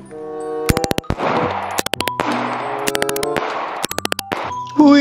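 MP5 submachine gun fire in Jurassic World Evolution 2, short sharp bursts of rapid shots in three clusters over a steady background hum.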